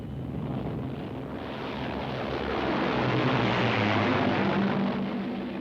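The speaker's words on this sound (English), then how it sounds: "a flight of planes was just taking off here" Loud, steady roar of a flight of aircraft taking off, with rushing wind noise; broad and continuous, swelling toward the middle and easing slightly at the end.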